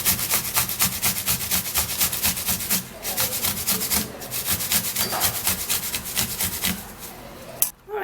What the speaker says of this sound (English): So we're going to be grating it because we need the juice of this apple.